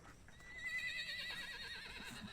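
A horse gives one drawn-out whinny, faint and somewhat distant, with a light outdoor background.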